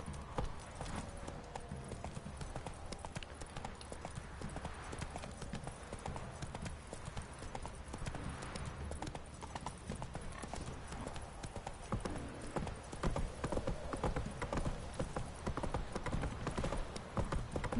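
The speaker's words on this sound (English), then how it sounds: "We're letting this horse take us its way." Steady clip-clop of horse hooves trotting at an even rhythm in The Witcher 3: Wild Hunt, continuous and fairly close, with faint game background noise and no talking.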